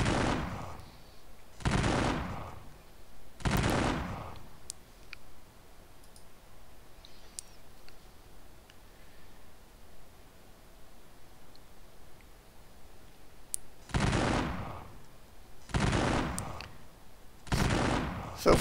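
Civil War troops firing in a strategy video game, heard as volleys of dense crackling musketry in separate bursts, two near the start and three near the end, with quiet gaps between.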